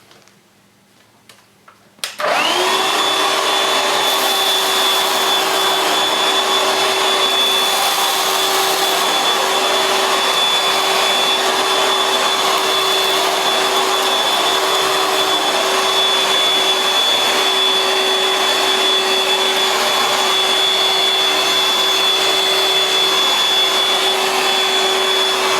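A Shark 2-in-1 cordless stick vacuum switches on after a brief quiet moment and then runs with a steady, close, high-pitched whine while cleaning sugar off a rug, with no voices.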